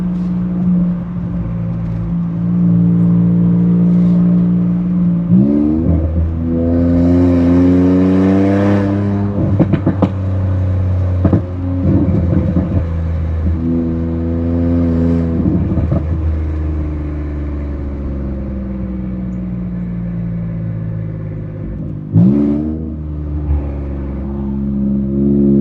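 An Infiniti Q50 Red Sport with full bolt-on upgrades pulls hard at full throttle, its loud engine note climbing steadily through the gears with brief dips at each shift, heard up close from inside the car.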